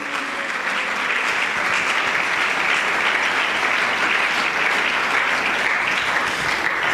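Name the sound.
applause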